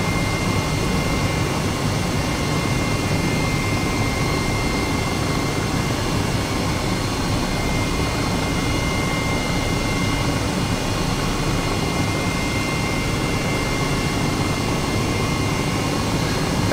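Helicopter flying low over the old runways and parking bays of a former RAF Templeton WWII training airfield, a steady, loud rotor and engine roar that fills the whole stretch without a break.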